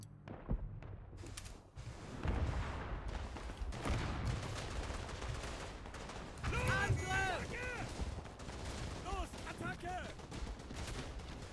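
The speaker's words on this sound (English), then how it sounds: "How long is this delay on this mortar strike?" Mortar strikes and gunfire in the World War I shooter Verdun, with repeated booming blasts and rattling shots in an ongoing battle din, and voices heard faintly among the noise.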